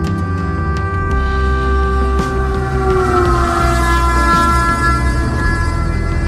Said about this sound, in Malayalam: എനിക്ക് ഏറ്റവും ഇഷ്ടമുള്ളൊരു കാര്യമാണ് ഈ ട്രെയിനിൻ്റെ സൗണ്ടും സ്റ്റേഷൻ്റെ കാഴ്ചകളും ട്രെയിൻ വരുന്നതും പോകുന്നതും